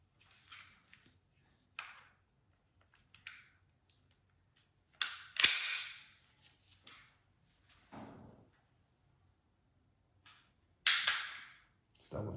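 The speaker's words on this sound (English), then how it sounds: "we're going to field strip the gun real quick" Glock pistol being field stripped, with scattered sharp metallic clicks and slide-like scrapes, a few louder bursts of handling noise between quiet gaps, close and clear.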